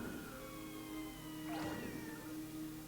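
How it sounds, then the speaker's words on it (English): A cat meows in the video game Katamari, one short rising-and-falling call midway through, heard over steady game music and background tones. "But there is a cat over there."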